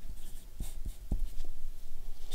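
A name is written on a sheet of paper, heard as a few short, scratchy strokes close by and quiet against faint room noise.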